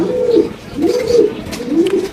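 Racing pigeons cooing close by, three soft rolling coos in a steady rhythm, with faint background noise and no talking.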